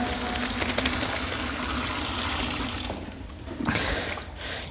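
Water pours steadily into a sprayer tank, a continuous gushing fill that briefly drops away and then resumes, close and moderately loud, with no speech.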